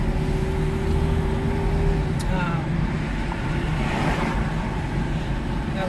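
A car in poor condition driving along, with a steady low engine and road rumble and passing traffic noise, while a person talks over it.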